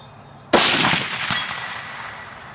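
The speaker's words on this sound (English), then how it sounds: "I'm going to zoom in so we can watch the bullet impact. This should fall over as soon as that bullet hits." .308 rifle bullet striking an AR-500 steel target outdoors, a single loud sharp crack followed by a long fading ring and echo.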